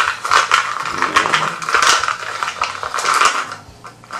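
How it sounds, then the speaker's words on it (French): Plastic or wooden board game pieces from Field Commander Napoleon being stirred and shaken together in a supply cup, producing a dense, continuous clattering rattle of small hard pieces knocking against each other and the cup, close and fairly loud. "on les met dans la tasse de ravitaillement, on les mélange"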